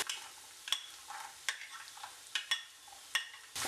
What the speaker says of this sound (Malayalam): ഇനി നമുക്ക് വെളുത്തുള്ളി ചേർത്ത് കൊടുക്കാം.